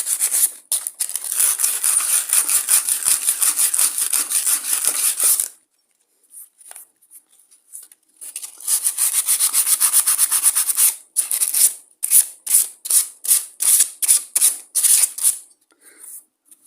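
Abrasive rubbing scrubs rust off a lawn mower shaft before an oil seal is fitted, in long continuous bursts and then quick rhythmic back-and-forth strokes with short pauses, close and crisp, with no talking.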